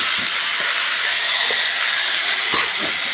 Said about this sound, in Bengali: এবার হচ্ছে পুঁই শাকটাকে ছেড়ে দিলাম